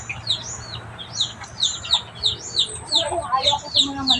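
Chickens clucking and chirping close by in a yard, a rapid run of short, overlapping calls that grows busier toward the end, with a faint voice underneath.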